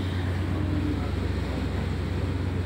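A three-storey passenger river launch running underway, with a steady low engine drone and rhythmic throb beneath continuous wind and water wash, loud and constant throughout.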